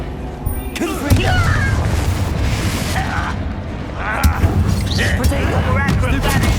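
Confringo fire-spell explosions in Hogwarts Legacy: several booming bursts in quick succession during a duel, mixed with shouted spell voices and battle chatter.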